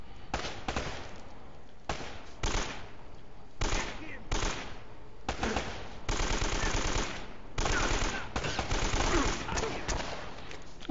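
Bursts of AK rifle gunfire in the video game Uncharted: Drake's Fortune, several loud rapid automatic volleys separated by short pauses, close and dominant throughout.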